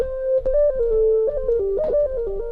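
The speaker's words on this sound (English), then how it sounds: "I'm thinking of just going with the smooth sine lead because it sounds a little bit more modern" A pure, sine-like synth lead glides through a gentle melody of held notes, with a light beat thumping underneath.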